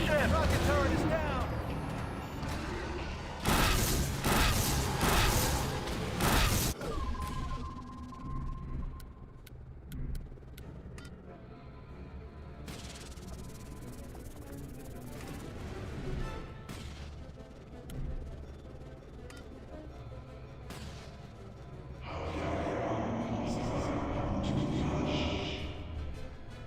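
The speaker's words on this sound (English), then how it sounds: "Heads up, gunship!" A gunship attacking during a battle in The Bureau: XCOM Declassified, with heavy rumbling blasts and roaring engine noise, loud impacts early on, then a sustained droning rumble and another surge of noisy fire near the end.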